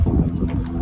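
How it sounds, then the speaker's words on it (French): Water spilling from a large blue hot spring pool at Yellowstone makes a steady rushing wash, close and loud, with wind buffeting the microphone throughout this brief moment. "Ça c'est l'eau qui tombe du grand bassin bleu."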